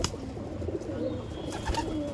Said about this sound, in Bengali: খুবই সুন্দর পায়রা।